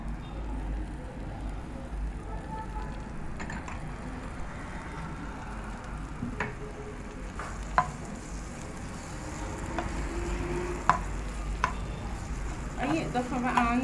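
Tomatoes and small-cut peppers going into a pan with shrimp and onion, a steady low sizzle of frying with occasional sharp scrapes and clicks of stirring, close by and continuous without talk.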